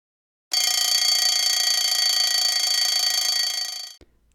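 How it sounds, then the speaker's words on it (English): An alarm clock rings in the morning, a loud continuous electronic bell tone starting abruptly and holding steady for about three and a half seconds before cutting off, alone with no talk. "That alarm came quickly,"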